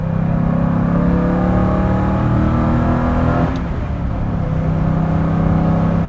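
A 1968 Ford Mustang Fastback Cobra Jet engine revs in a steady, loud, close drone for about six seconds. It dips slightly midway, then holds its throaty rumble to the end.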